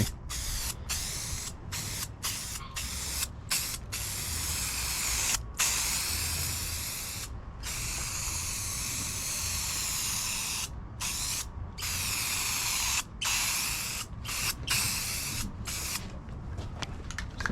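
Rust-Oleum matte black lacquer hisses steadily from a spray can in long, close bursts, broken by short pauses throughout.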